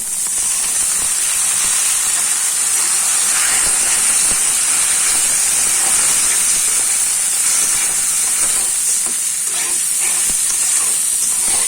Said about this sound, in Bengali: ডালটাও আমি কিছুক্ষণ ভাজা ভাজা করে নিব।